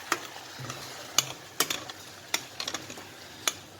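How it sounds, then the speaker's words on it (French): Hot pan deglazed with cava, a soft continuous sizzle underneath sharp intermittent clicks of a utensil scraping and stirring against the pan, close and moderately quiet, no voices. "on va déglacer avec le cava"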